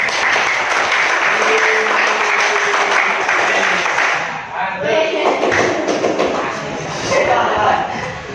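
A classroom of students claps hands together, loud and fairly close, the clapping strong at first, then fading and picking back up, mixed with thumps, taps and children's voices.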